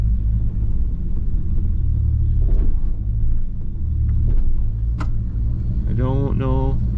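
A 1958 Chevrolet Delray engine idles in a steady, loud low rumble close by, with clicks and a short squeak near the end as it runs after starting in a shed.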